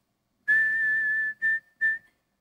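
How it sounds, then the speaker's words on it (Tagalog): A person whistles a few bars of the hymn Onward Christian Soldiers: one sustained whistled phrase, then two short whistled notes, clear and close with no talking. "Sinisipol ko na lang yan."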